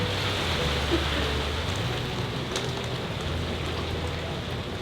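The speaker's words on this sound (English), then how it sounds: "It's very quick, these squalls. They roll by." A quick rain squall drums on a boat, with a dense, steady hiss of heavy rain on the deck and surfaces, a low hum underneath, and a couple of sharper drop impacts, with no talking.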